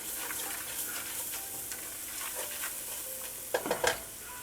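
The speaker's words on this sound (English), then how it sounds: "And just stir that around until the flour looks pretty much" Flour being stirred through a hot pan as a base for scalloped potatoes, a steady scraping and sizzling texture with a few sharper clatters of the spoon near the end.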